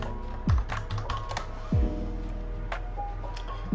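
Someone types a Linux upgrade command on a computer keyboard: a run of quick, close key clicks in an uneven rhythm, with a few heavier presses standing out over a steady background hum.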